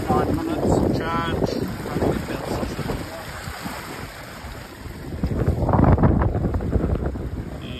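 Small Takacat T300LX inflatable boat under way with an ePropulsion Spirit 1.0 electric outboard, its hull slapping on the water amid steady wind buffeting the microphone and a louder gust toward the end, with a brief voice early on.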